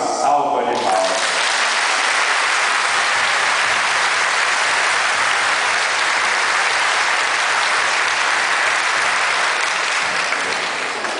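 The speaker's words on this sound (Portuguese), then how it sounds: "Portanto, a ele uma salva de palmas." A congregation at mass gives the priest a long, sustained round of applause, loud and even throughout, after a brief voice at the very start.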